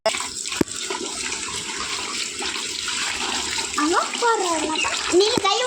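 Water runs steadily from a tap into a tub filled for a Labrador to cool off in, a continuous rushing wash with a voice and other speech breaking in over it.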